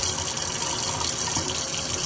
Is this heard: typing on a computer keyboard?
no